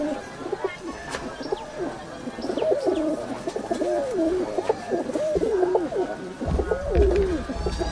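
Pigeons coo close by in a pigeon loft, giving repeated throaty rolling coos with occasional faint chirps. There is quiet background noise and no clear talk.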